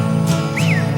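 Whistled bird-call imitations sounding in the middle of a song, a rising and falling human whistle mimicking birdsong over a steady, loud musical backing.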